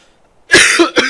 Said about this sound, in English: Yeah, I cough right now.